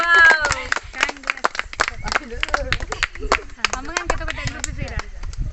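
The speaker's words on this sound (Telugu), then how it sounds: "క్లాప్స్ ఒకసారి క్లాప్స్ కొట్టుది" An audience at an outdoor Sankranti festival gathering among green fields claps in scattered, uneven bursts close by, mixed with people talking throughout.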